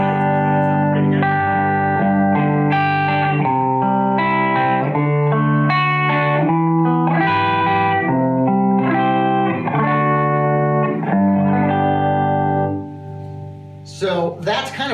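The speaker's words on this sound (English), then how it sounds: "You just pretty much used the volume Yes. and went from screaming distortion and rolled it back, and it cleaned right up." An electric guitar plays sustained, heavily distorted chords and riffs, loud and close, then thins toward a cleaner tone as its volume knob is rolled back near the end, with brief talk at the close.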